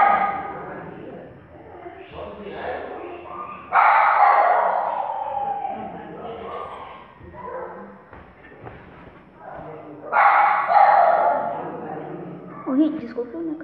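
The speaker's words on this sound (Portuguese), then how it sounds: "Desculpa o meu cachorro que ela tá latindo" A pet dog barks in a couple of loud, sharp bursts close by indoors while a person keeps talking in Portuguese over it.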